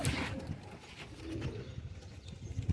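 A Golden Ferozpuri pigeon coos close by in soft, low, throaty pulses, several repeated coos in a loose rhythm at a quiet level.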